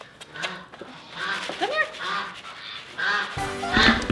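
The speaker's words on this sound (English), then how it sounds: "Duckies, come here please." Ducks on a homestead quack and honk in a loose, scattered chorus at moderate distance, with a person briefly calling to them.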